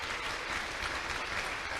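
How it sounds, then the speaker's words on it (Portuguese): Continuous applause from a large church congregation during a worship service, a dense steady clatter of many hands clapping with no break. "dê uma forte salva de palmas ao Senhor Jesus"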